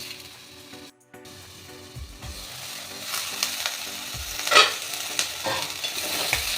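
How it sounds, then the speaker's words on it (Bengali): Eggplant pieces frying in a pan of oil with popped mustard seeds, stirred with a spatula that scrapes and clacks intermittently over a steady close sizzle, growing busier toward the end. "এবার দিয়ে দেব বেগুন। বেগুনটা একটু নেড়ে চেড়ে"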